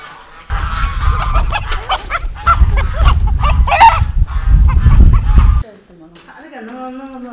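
A young rooster squawks and cackles loudly in bursts while being chased and caught in a rural yard, with people talking over the commotion, then the noise stops abruptly and quieter speech follows.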